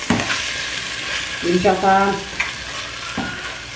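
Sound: seasoned liver frying in a pan

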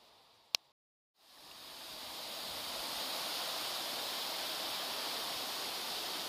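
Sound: waterfall at Valgatun with travertine deposit

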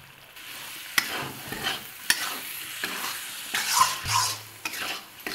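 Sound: stirring chicken curry with tomato and salt in a pan

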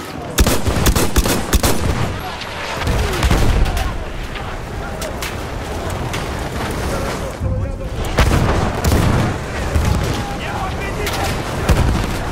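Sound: grenade explosion in Battlefield 1 video game

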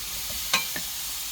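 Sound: onions frying in a pan

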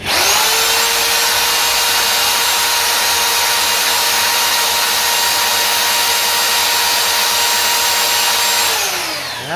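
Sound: electric drill running

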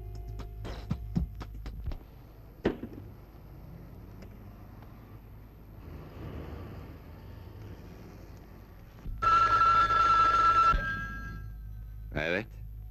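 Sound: telephone ringing

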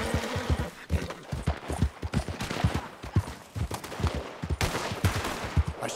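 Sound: gunfire in video game Red Dead Redemption 2

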